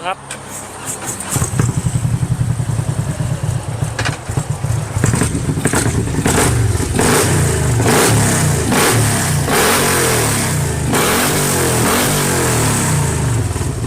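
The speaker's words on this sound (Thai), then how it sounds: "รถคันนี้มีแคมแล้วลองฟังเสียงกันด" A Harley-Davidson Road Glide Special 2021 motorcycle engine with performance cams revs repeatedly, loud and close, with deep rumbling idle between throttle blips that rise and fall throughout.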